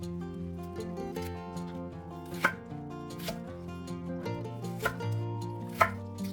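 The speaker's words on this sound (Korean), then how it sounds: "반을 잘라 속은 분리한 다음 3등분 되게 썰어 크기를 맞춰줍니다." Knife cutting a halved onion into thirds on a cutting board for spring kimchi, with a few distinct close chops spaced over a quiet background of steady music, no talking.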